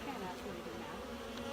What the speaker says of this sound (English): the bees are out here and they're flying